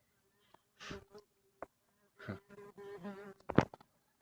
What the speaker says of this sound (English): Sorry, a wasp.